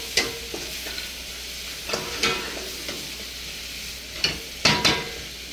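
Garlic sautés in a pan for vegetable curry, a soft steady sizzle broken by several sharp spatula scrapes and taps against the pan.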